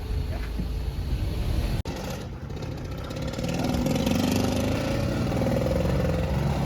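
A VVL turbo Ford Escort drag car engine runs loud and close, a steady rumbling drone with a brief dropout partway, then a rising, heavier note as the car pulls away, a voice speaking briefly over it.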